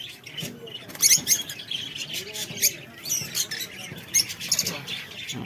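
A mother lovebird chirps and tweets in quick, sharp bursts close by, an irregular string of high calls with faint rustling in between.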